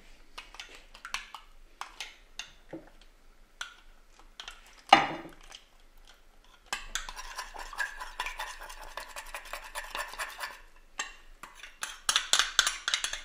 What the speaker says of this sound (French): On mélange le tout et on vient arroser les champignons.